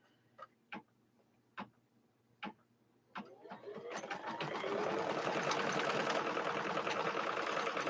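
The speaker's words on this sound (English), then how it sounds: "And we're going to go ahead and start stitching." An embroidery machine stitching a template in the hoop: a few sharp single ticks of the needle, then a steady, loud, rapid mechanical whirr of continuous stitching close by.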